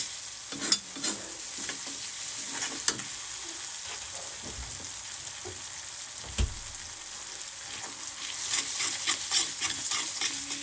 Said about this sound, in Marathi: हलवून घेऊ छानपैकी